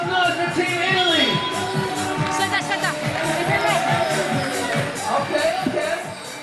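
Crowd cheering and hubbub at a FIBA 3x3 basketball Olympic qualifying tournament, a dense sustained roar of many voices with shouts and whistles, steady and loud throughout.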